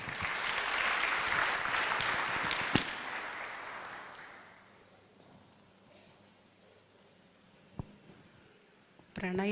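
A burst of clapping from a group fills the first few seconds, then fades out into quiet room noise with a few faint rustles.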